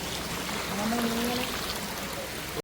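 Clear stream water flowing in the open, a constant rushing wash that stays even for the short stretch, with a faint voice-like murmur partway through.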